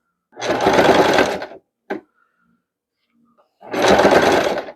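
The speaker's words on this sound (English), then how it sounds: "You're going to use a straight stitch all the way down." A sewing machine runs two short bursts of straight stitching along a doll skirt seam, close and clear, separated by a quiet pause with small clicks.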